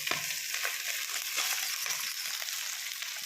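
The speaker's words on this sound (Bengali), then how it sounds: "এবার আমি রাইসটা ঢেলে দেবো এর মধ্যে" Rice with peas and chopped green chilli frying in a spoonful of ghee, giving a steady close hiss and crackle with light stirring clicks throughout.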